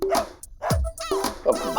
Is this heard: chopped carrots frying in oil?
no